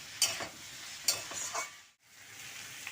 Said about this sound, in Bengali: মিশিয়ে সবজির সাথে ভালোভাবে কষিয়ে নেব